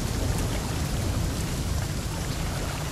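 Steady heavy rain pours in the video game The Flame in the Flood, a dense, unbroken hiss of falling water with a low rumbling undertone, loud and close throughout.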